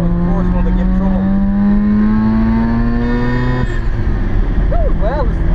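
A Mazda engine revs loudly at the Kirkistown race circuit and climbs steadily in pitch, then drops off sharply before a brief squeal-like whine near the end.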